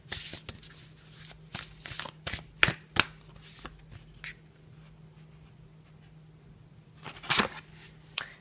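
Tarot cards being shuffled by hand close up, a series of crisp riffling and shuffling bursts in the first few seconds, a quiet pause, then one more brief shuffle near the end; no speech.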